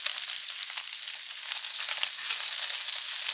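Escarole sautéing in a pan, a steady, close, bright sizzle and crackle of frying that continues without pause, with no one talking.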